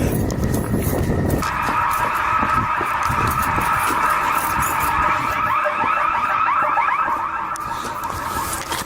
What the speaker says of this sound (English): This is the first time we've ever set off alarms.